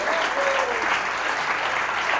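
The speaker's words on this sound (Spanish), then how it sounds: "Si alguien va a aplaudir, aplaude en esta noche en el nombre de Cristo" A church congregation applauds during an evening sermon, a loud, full wash of clapping that stays unbroken throughout.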